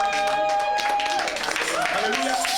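Church congregation applauding the Lord during a sermon: a brief burst of dense clapping with voices and a sustained singing or keyboard tone running through it.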